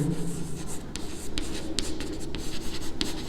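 Marker or chalk strokes on a classroom board while writing out given values, a series of quick scratchy taps and squeaks in an irregular rhythm, close and clear with no talking.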